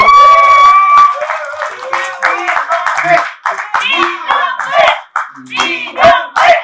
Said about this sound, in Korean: 박수 한번 보내야 되지 않겠어요?